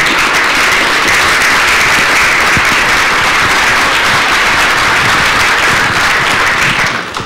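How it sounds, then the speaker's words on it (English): A loud, dense wash of audience applause at a gathering about African-American baseball in Nashville, sustained and even for several seconds before easing slightly at the end. "they deserve a great round of applause."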